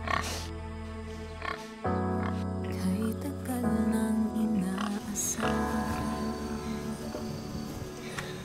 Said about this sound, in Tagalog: Ayan, mga pigs!